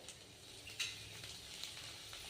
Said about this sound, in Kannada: ತೊಳೆದು ಬಿಟ್ಟು ಹೋಳಿ ಕಟ್ ಮಾಡಿರುವಂಥ ಸಬ್ಬಸ್ಗಿ ಸೊಪ್ಪು ಹಾಕೋಬೇಕ್ರಿ